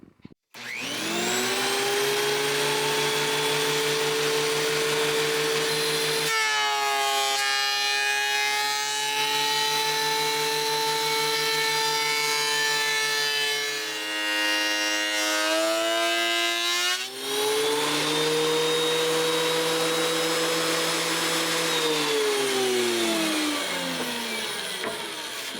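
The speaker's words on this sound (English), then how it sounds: "And now it's time to run it through the planer." A thickness planer feeding a glued-up hardwood panel: steady loud motor whine, pitch dropping and roughening while the board passes under the cutter head, then rising back as it clears and spins down at the end.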